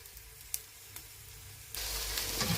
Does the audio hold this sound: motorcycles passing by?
no